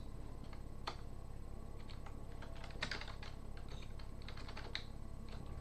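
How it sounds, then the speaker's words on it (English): Values are typed into a computer keyboard while building a simple MS SQL database. The keystrokes come as quiet, close, irregular clicks in short bursts over a steady background hum. "to create more, you would simply type in the values that you want for all of your different inputs"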